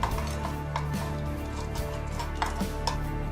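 Crushed beauty soap being mixed in a bowl, with soft repeated tapping and scraping strokes of a utensil against the bowl over a steady low hum, close and moderately quiet.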